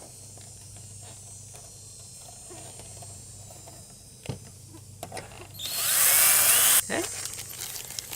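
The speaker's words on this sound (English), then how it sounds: "Just going to flip it over and drill the other hole." A power drill bores a hole through a metal pole flange on a homemade fruit picker, a loud whining burst lasting about a second after quiet handling clicks and a brief spoken word.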